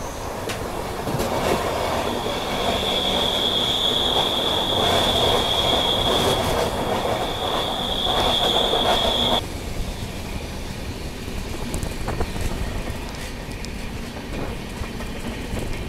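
The New Delhi–Ranchi Rajdhani Express runs past Silli station in Jharkhand with a steady, heavy rumble of wheels on rails. A high, sustained wheel squeal rides on top for about nine seconds, then cuts out, leaving the rolling clatter alone.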